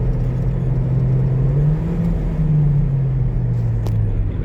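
Ford Transit van with a misfire driving in low second gear, its engine a loud, steady droning rumble from inside the cab with a slightly wavering pitch, no talking.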